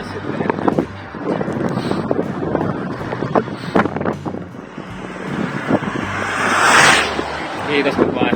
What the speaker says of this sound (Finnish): Taitaa olla sivutuuli.